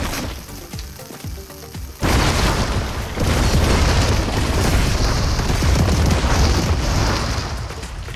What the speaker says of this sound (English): Gotta love explosions.